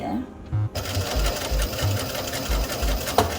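A zigzag sewing machine stitches steadily with a rhythmic, thumping mechanical beat, close and fairly loud, while a person talks over it.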